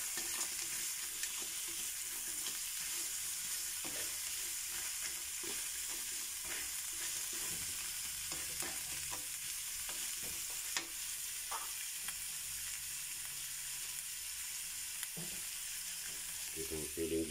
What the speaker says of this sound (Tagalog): Tapos ilalagay natin yung gata.